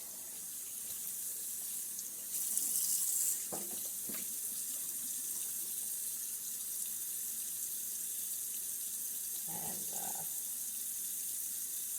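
Tap water runs steadily into a kitchen sink while a raw turkey is rinsed, a constant hiss broken by a few brief splashy changes as the bird is moved under the stream.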